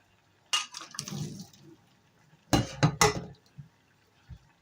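Boiled turnip being drained in a kitchen: a clatter of a pot and lid, then a few short bursts of pouring water and splashing with clinks, close and moderately loud.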